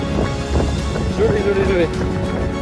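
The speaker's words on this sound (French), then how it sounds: "Oh là là, c'est un déluge. On est noyé." Heavy downpour soaking runners during an ultra trail race, a dense, loud wash of rain hissing continuously around the microphone while a voice talks over it.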